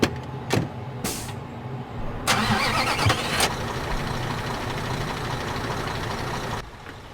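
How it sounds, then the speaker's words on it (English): A lowboy truck's diesel engine starts up in Construction Simulator 2015, with a few sharp clicks, a brief cranking burst, then a steady idle rumble that cuts off near the end. "And we'll jump back into the Lowboy Truck."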